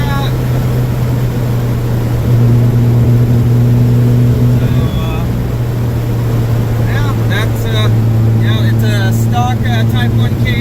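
A Volkswagen Super Beetle with a Type 1 transmission case drives along a street in second gear, its engine droning loud and steady close by while a voice talks over it near the end.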